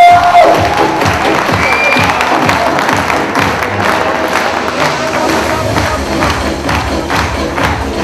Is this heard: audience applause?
yes